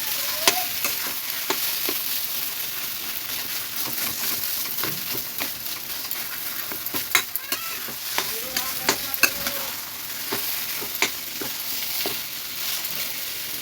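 Taro leaves (kachur shaag) being stirred and fried in a pan, with a steady sizzle broken by frequent scraping clicks of the spoon against the metal, close and fairly loud throughout.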